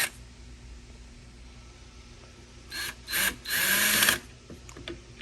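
A Ryobi power drill drives screws into a shelf in short whirring bursts, two brief spurts followed by a longer steady run, close and fairly loud against a quiet room.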